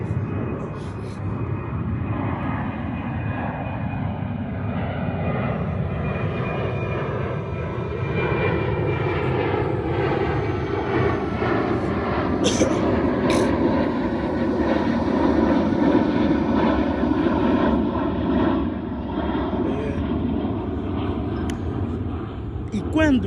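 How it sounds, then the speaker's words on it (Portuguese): An airplane flies overhead, its loud engine drone holding for over twenty seconds while the pitch slowly bends and shifts as it passes. "avião..."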